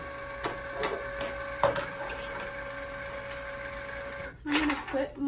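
A Cricut cutting machine powers on and its lid opens, giving a steady mechanical hum with a tonal whine, a few clicks and a louder clatter near the end, at close range.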